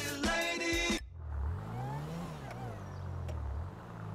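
A Mini Cooper's engine revving in Grand Theft Auto V story mode on PS5, a rising and falling engine drone following a burst of music, fairly close and moderately loud, with no one speaking.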